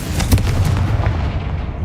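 The Confringo explosion spell from the video game Hogwarts Legacy lands as a loud, close, booming blast with crackling bursts, followed by a rumbling tail that slowly fades.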